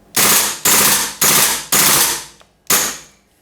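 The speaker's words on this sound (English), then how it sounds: "then we've got full auto." A WE PCC gas blowback airsoft gun firing on full auto gives five loud, close, sharp cracks, each with a brief tail, spaced about half a second apart, with a slightly longer pause before the last one.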